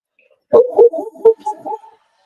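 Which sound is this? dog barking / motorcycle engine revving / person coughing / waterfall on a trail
dog barking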